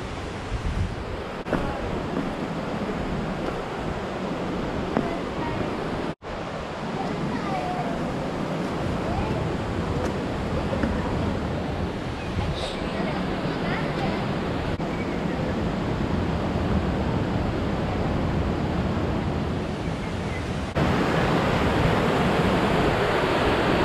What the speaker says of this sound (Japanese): あれが7番目の滝だと思う。